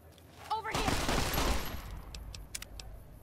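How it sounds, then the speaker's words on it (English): Gunfire erupts in a Fallout: New Vegas-style video game scene, a dense loud burst of rapid shots lasting over a second, then scattered sharp single shots trailing off, with a voice calling out briefly at the start. "Rush off to stop the gunfire."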